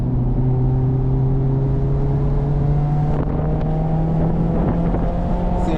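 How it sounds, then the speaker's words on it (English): A Mazda ND3 Miata is driven hard on a track with the top down, its engine drone steady and loud throughout under heavy wind buffeting, the pitch climbing gradually. "I can just drive this car hard for me."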